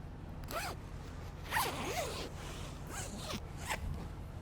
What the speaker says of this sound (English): I'm just going to zip this one back up.